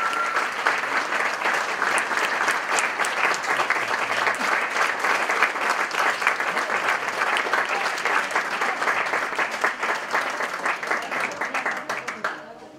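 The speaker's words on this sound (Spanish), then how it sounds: "pido un fuerte aplauso para todos ellos" Sustained applause from a large audience at a living statues contest awards show fills the space, steady and dense, tapering off near the end.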